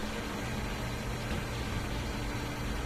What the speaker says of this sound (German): Nee, das ist der Sauger, ist das.